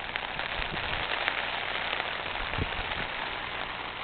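Steady rain falls outdoors on a mild, breezy 60-degree day, a continuous even hiss with scattered drop patter and no voices.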